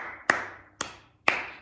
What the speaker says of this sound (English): have you done any clapping this week?